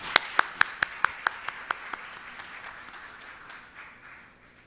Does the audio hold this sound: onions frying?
no